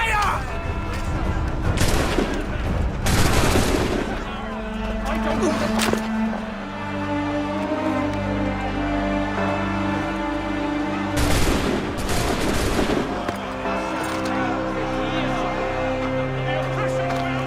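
Musket volleys crack out in Assassin's Creed 3, several loud bursts of massed gunfire in quick clusters with a pause between them, set against a steady orchestral score.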